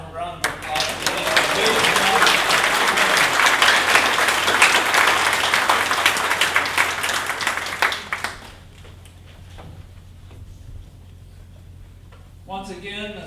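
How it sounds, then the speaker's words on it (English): Loud, sustained applause from a crowd at a Veterans Day ceremony with the Sweetgrass Singers, lasting about eight seconds before cutting off to quiet room tone and a brief voice near the end. "How about one more round of applause?"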